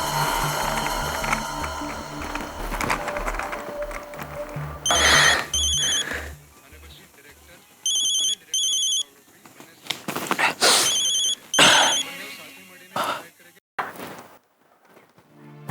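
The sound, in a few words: telephone ringing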